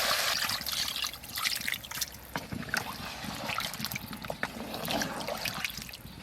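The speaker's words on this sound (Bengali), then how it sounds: "জল দেব।" Water poured into red country chicken curry cooking over an outdoor fire, a soft continuous trickle and splash with faint background noise, no talk.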